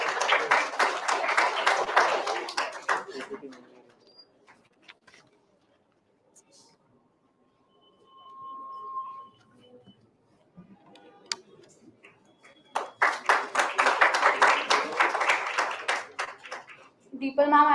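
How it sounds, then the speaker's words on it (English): Audience at a college event giving a round of applause, a burst of dense clapping that fades into near quiet with a few scattered claps, then swells again into a second strong round near the end. "A round of applause, please."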